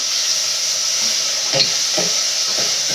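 Onions sautéing in a pan for a ground-masala koduva fish curry, a continuous loud sizzle with a few scraping stirs partway through, close and without talk.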